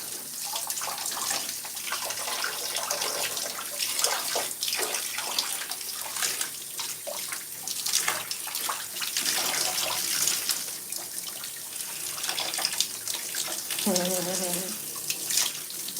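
Running water from a tap pours steadily while conditioner is rinsed out of hair, a continuous splashing rush with a brief voice near the end.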